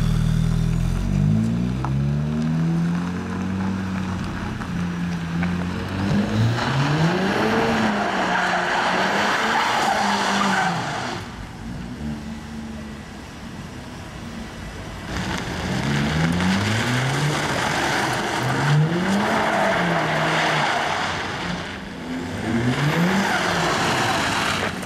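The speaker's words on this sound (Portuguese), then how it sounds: "Temos aqui então este CLA45S. Pelo que me disseram, tem drift mode." A Mercedes CLA45 S in drift mode slides on a muddy track, engine revving in rising and falling sweeps while tires squeal and skid, loud and continuous with brief lulls between runs.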